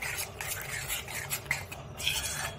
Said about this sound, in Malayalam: ഇനി ഞാൻ ഇതിലേക്ക് അല്പം മിൽക്ക് ക്രീം കൂടെ മിക്സ് ചെയ്യുകയാണ്. ഇതും ഒന്ന് നന്നായിട്ട് ഇളക്കിയെടുക്കാം.